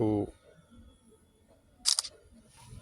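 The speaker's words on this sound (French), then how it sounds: "je fais une photo pour envoyer au client" Phone camera shutter firing once as a photo is taken to send to a client, a short crisp burst of clicks in a quiet room, heard just after a brief bit of talk.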